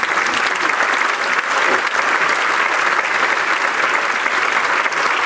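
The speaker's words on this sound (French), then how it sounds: "qu'on les applaudisse carrément encore une fois" Sustained, loud applause from an audience at a business association's general assembly, a dense continuous wash of many hands clapping with no breaks for the whole stretch.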